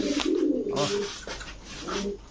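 Pigeons coo in a close, repeated series of low, throaty phrases, with a steady hum of room noise underneath and no talk.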